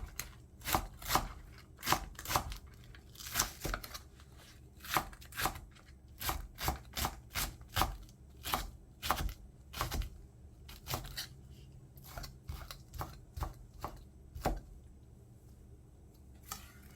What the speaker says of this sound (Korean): 송송송 썰어서 준비해 놓고